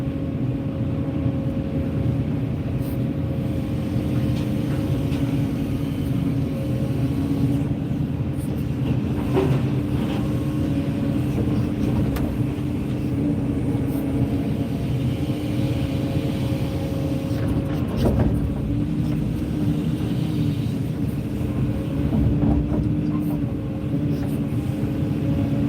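A 40-ton excavator running steadily for a long stretch, a constant loud low diesel drone with faint clanks and shifts in load, heard up close from the operator's seat.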